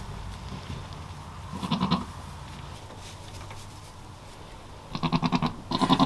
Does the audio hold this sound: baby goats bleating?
yes